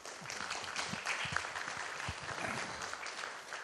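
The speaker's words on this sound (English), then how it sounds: "I already get a round of applause." Indoor audience applause during Ajahn Brahm's Buddhist talk in Sabah, steady broad clapping from a large crowd that holds evenly for several seconds, heard from a middle distance with no voices over it.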